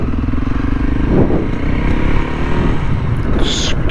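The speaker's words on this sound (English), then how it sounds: "to practice a bit of skidding in straight lines first." A dirt bike skids in straight lines during slow-speed practice, its engine droning steadily up close with a brief rise near the middle and a short scraping burst near the end.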